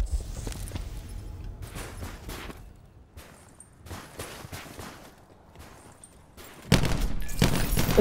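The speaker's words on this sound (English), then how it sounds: "It's a burst gun? Fuck these burst guns" A burst-fire gun in Call of Duty: Black Ops 4 sounds in short, sharp volleys spread over several seconds, with a louder, denser stretch of firing close by at the end.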